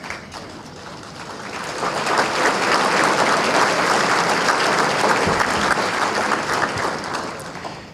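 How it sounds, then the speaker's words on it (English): An audience at a city's state of the city address breaks into sustained applause, a dense, loud wash of clapping that swells after the first couple of seconds and holds steady throughout. "I want to ask for a round of applause"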